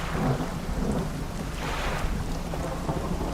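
A video game thunderstorm rolls on with a dense wash of steady rain and a deep, swelling rumble of thunder building in the middle, loud and continuous throughout.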